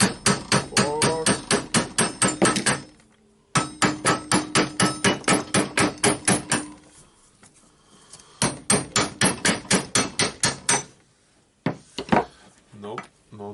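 Someone taps a part of a Berner BROS 150 orbital sander with a hammer in rapid rhythmic runs of close, ringing blows, with pauses between the runs and a few scattered knocks near the end.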